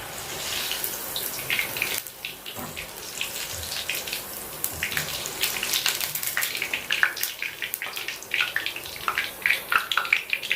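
Cauliflower 65 frying in hot oil in a wok gives a busy, continuous crackling sizzle with dense bursts of bright popping. It sounds close and fairly loud, with no talk over it.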